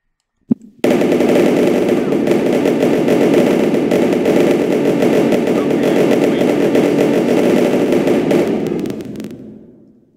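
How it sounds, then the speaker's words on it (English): Continuous rapid-fire blasting from chained explosions destroying player-built creations in a Minecraft world, loud and dense for about eight seconds after a sharp initial bang, then tapering off. "I'm gonna blow up all my creations on this world."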